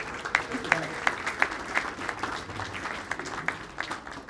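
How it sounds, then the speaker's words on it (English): Audience applause at a rugby hall of fame ceremony, a steady wash of clapping with brief louder peaks, held at moderate volume throughout with no talk over it. "give yourself a round of applause right now"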